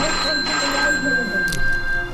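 A telephone rings briefly during a Bhojpuri devotional song sketch, with a steady bright tone under music and voices in a continuous two-second stretch.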